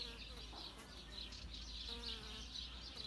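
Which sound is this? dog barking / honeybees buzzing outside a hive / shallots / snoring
honeybees buzzing outside a hive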